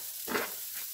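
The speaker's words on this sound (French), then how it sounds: "on va y faire revenir dedans nos oignons" Onions are stirred into hot fat in a pan. A faint, quiet sizzle rises briefly as they are moved around, over a soft, steady frying hiss, with no talking.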